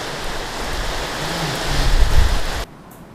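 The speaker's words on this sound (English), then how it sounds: "Very stormy today, so if you hear rain or wind, we are in a tin container basically." Steady heavy rain hisses close by on a tin container during a storm, with a low rumble swelling near the end, then cuts off abruptly.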